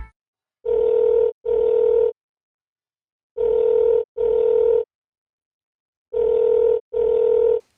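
A telephone tone plays while a call is placed: three pairs of short, steady beeps, each pair separated by a gap of silence, loud and clear with no talking.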